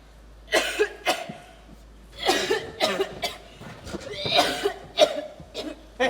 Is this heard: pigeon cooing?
no